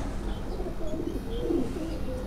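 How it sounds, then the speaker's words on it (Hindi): Pigeons coo softly on a Karachi rooftop, low warbling calls scattered over a constant outdoor hum and rumble, faint and somewhat distant, with occasional chirps. "काशिफ भाई के घर के एक बेबी पिजन ने बड़ी शानदार उड़ान बड़ी"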